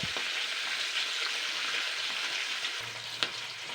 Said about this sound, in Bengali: এরকম কিন্তু লাল লাল করে মাছগুলো আর কি ভেজে নিতে হবে